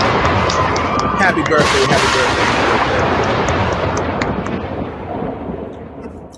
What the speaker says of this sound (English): I'm gonna give you some air horns and I'm gonna give you the big cheer